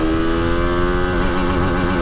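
A TVS Apache RR310 motorcycle pulls hard in first gear, its loud, close engine rising in pitch as it revs up, with no voices.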